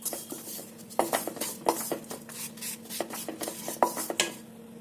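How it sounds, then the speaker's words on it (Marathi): Gram flour roasting in a pan while a spoon scrapes and stirs it, giving repeated metallic scrapes and clinks at an uneven pace, close and fairly loud, with a faint background hum. "बेसन व्यवस्थित भाजून घ्यावे।"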